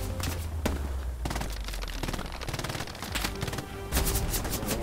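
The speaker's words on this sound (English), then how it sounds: "Oh, God, he's shooting up my tailpipe. Oh, fucking hell. Bullets whizzing." Rapid gunfire with sharp cracks and bullets whizzing past in the World War II shooter Hell Let Loose, close and loud volleys in quick irregular bursts, with occasional voices underneath.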